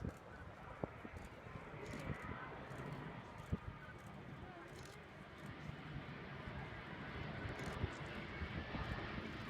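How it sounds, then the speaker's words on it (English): Airbus A350-900 airliner making a low, slow flyby at the Farnborough International Airshow, a distant steady jet engine roar held under a faint commentary voice and crowd noise. "That is a majestic flyby."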